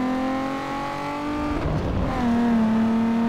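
A tuned car engine in Need for Speed Underground 2 holds a steady drone, dips briefly, then revs up again to a higher sustained pitch, loud and alone.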